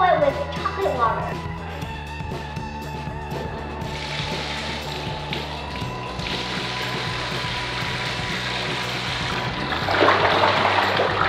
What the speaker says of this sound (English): Now I'm going to open the water and get myself all wet with chocolate water.